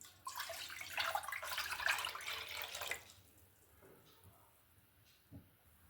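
About 1.5 litres of water pouring into a large cooking pot on a gas stove: a splashing gush for roughly three seconds that then stops, followed by quiet with a faint knock.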